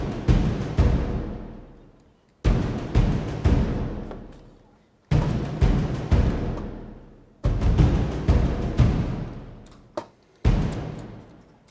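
Orchestral battle music from Final Fantasy VII, with rhythmic strings driving repeated loud accented hits that decay between phrases, in a steady pattern with nothing else over it.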